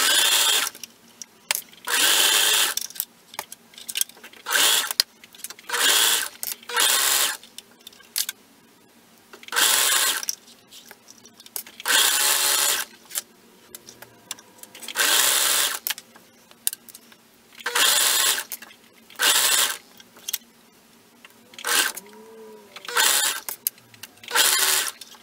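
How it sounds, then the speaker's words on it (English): A sewing machine stitching an elastic seam on an adult swimsuit, running in repeated bursts of a few seconds with short pauses between, close and loud, with no speech. "sew all the way back to my start point"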